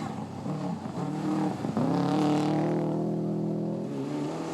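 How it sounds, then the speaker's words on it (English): An old-style Subaru Impreza WRX rally car at a 2002 rally event, its engine droning steadily and then revving harder with a rising, sustained growl, loud and close with no talking. "Sylvain Vincent Dominique Cyr in an old-style Subaru Impreza WRX."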